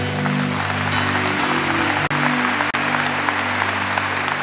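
A church congregation applauds the newly baptized during a Catholic Mass, with steady dense clapping under a sustained droning organ-like hum, broken by two brief dropouts.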